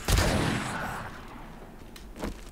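A pipe shotgun fires once in the survival game 7 Days to Die, a loud close blast with a decaying tail and a fainter thump near the end.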